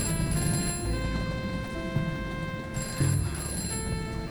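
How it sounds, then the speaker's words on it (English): A telephone rings in the video game Fallen Aces, a bright metallic bell that trills continuously with a renewed burst near the three-second mark, fairly loud and with no talk. "let's answer the phone"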